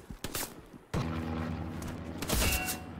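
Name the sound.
gunfire in the video game Hell Let Loose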